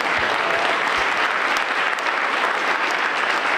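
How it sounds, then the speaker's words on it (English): Steady applause from a conference audience, a dense continuous wash of many hands clapping at close range for the full few seconds, with no voices standing out. "We can have a round of applause for Andrew and the migration framework"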